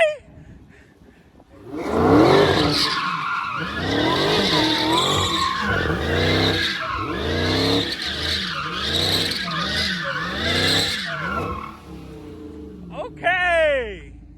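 A Dodge Hellcat spins donuts, its engine roaring loud and close with rhythmic rising surges as the tires skid and squeal continuously for about ten seconds, then cuts out; people talk briefly near the end.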